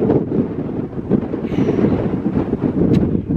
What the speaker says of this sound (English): I hope the wind doesn't blow me down.